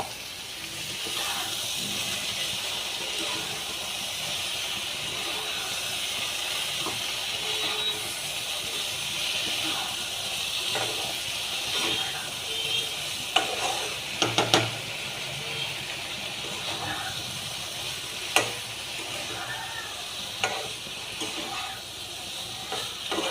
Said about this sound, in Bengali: এবার আমি সয়াবিনগুলোকে ঢেলে দিলাম।